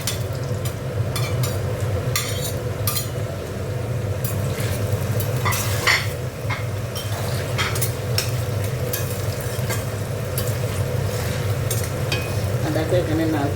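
Tomatoes sizzle and fry in a pan for ghugni, a steady, close, dense hiss running throughout, with scraping stirs and utensil knocks breaking in over it.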